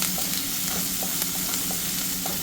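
Curry leaves and onions fry loudly in hot oil for a curry, with a dense, constant close sizzle and faint stirring scrapes throughout.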